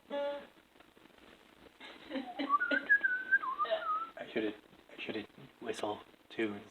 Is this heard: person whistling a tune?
yes